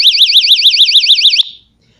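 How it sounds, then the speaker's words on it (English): Loud electronic alarm of a Street Wise stun gun, a rapidly warbling high-pitched siren tone that pulses evenly for over a second, then cuts off abruptly into silence. "I will admit, the alarm is a lot louder than I thought it was going to be."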